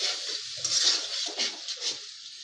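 A spoon scrapes and stirs through a cauliflower, egg and potato curry in a pan with softened tomatoes and a little added water, giving a bright sizzling hiss broken by uneven metallic scraping strokes.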